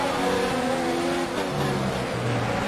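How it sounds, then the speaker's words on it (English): Race cars in the F1 2019 video game revving and pulling away at the start of the Baku Grand Prix in Azerbaijan, a loud, dense roar of many engines with pitches climbing through gear changes. "The revs are rising, we go 5 red lights, and we're off and away here for the Baku Grand Prix in Azerbaijan."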